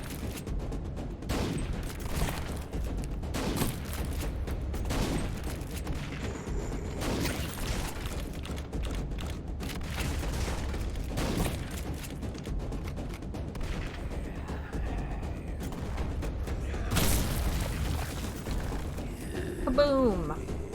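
Explosions and gunfire in the video game Frontline Zed, repeated heavy booms and bursts spaced through a long stretch, with a voice talking intermittently over the blasts.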